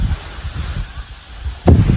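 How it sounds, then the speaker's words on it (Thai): Strong wind blows outdoors, rumbling and buffeting with a steady airy hiss. A louder gust thumps in near the end. "ลมแรงมากทุกคน"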